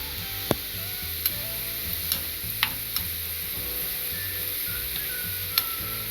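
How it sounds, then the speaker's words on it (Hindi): Garlic and onion sizzling in a pan for moong dal, a steady soft frying hiss with a few sharp clicks of a spoon against the pan, heard close with no talking. "अब लहसुन और प्याज हल्के ब्राउन हो गए हैं।"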